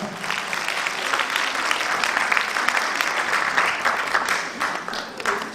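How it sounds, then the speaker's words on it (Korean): A crowd applauds steadily for several seconds at an award ceremony, a dense, even wash of clapping heard from within the room. "박수 부탁드리겠습니다."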